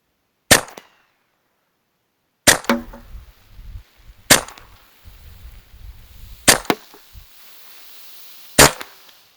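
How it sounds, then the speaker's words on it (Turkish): Five sharp, loud cracks from a Hatsan Velox PCP air pistol firing at a 50-metre target, spaced about two seconds apart, with faint handling noise between shots and no voices. "Şimdi atışa geçiyoruz."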